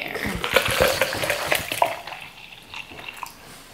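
A scooped powder drink mix and liquid pour and splash into a cup, with clinks and gurgles that fade toward a quieter finish.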